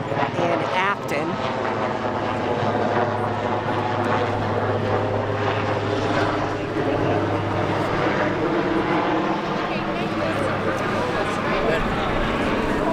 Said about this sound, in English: There are aircraft from multiple areas, multiple agencies rather, circling the area, keeping an eye on things